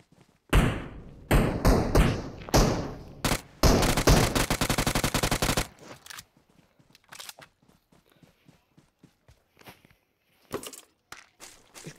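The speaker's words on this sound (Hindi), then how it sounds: "ये किसने फायरिंग की अभी?" Gunfire in the battle royale game BGMI during a 2v2 match: loud rapid bursts and single shots cluster in the first six seconds, then give way to faint scattered taps and footsteps.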